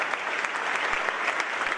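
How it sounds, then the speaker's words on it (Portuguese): A church congregation claps together in steady applause during a sermon, a dense, continuous patter of many hands without any voices on top. "Aplauda o Senhor."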